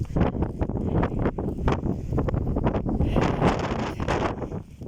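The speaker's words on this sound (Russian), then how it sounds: "не знаю, что будет со звуком, потому что сильный ветер сегодня опять" Strong wind buffeting the microphone outdoors, loud rumbling gusts that thump and roar unevenly across the whole stretch, with no talk.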